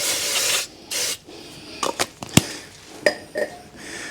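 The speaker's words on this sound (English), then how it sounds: "We'll give it a bit of a clean up with some brake and clutch cleaner." Brake and clutch cleaner hisses from an aerosol can onto the brakes of a Rover 75 Tourer in several short bursts, followed by scattered clicks and light metallic taps from handling the can and parts nearby, with no talking.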